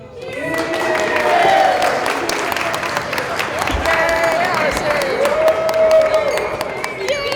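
Applause and cheering from wedding guests following a wedding speech, a dense, loud burst of clapping that carries on steadily, with raised voices and whoops mixed in.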